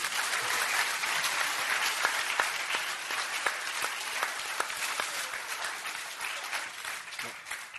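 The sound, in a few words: audience applause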